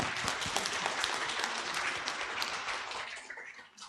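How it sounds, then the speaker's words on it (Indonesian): Applause from an audience of over 150 members at an organisation gathering in Jogja, a dense steady wash of clapping lasting about four seconds, fairly quiet and distant, tapering slightly at the end. "Tepuk tangan dulu dong buat Europin Jogja."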